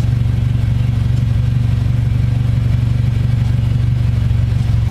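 Car fitted with an aftermarket muffler idles steadily, giving a low, even exhaust rumble with a fine pulsing rhythm, close and alone for about five seconds.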